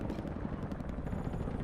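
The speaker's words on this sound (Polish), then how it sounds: "Helikopter?" Helicopter in the video game Battlefield: Bad Company 2, a steady broadband rotor and engine rumble that holds level and fairly close throughout, with no talking over it.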